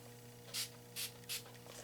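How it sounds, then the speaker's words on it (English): Three short, quiet spritzes of heat protectant spray hiss onto a section of hair during bridal updo styling, evenly spaced and close by with no talk. "you just want to spritz that with some heat protectant spray"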